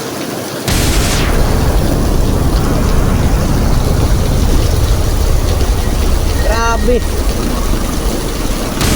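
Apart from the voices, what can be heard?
heavy rain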